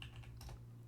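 A few quick, faint taps on a computer keyboard while typing a short label, soft clicks over a low background hum.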